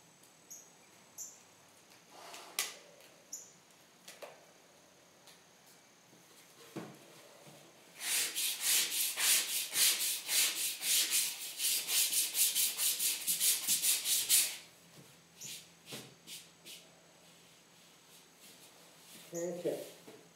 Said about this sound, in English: I'm going to start back on sanding on this part